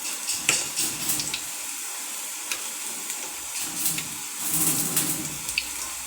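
Plantain bajji batter fries in hot oil with a continuous crackling sizzle and scattered pops, close and fairly quiet, with no talk.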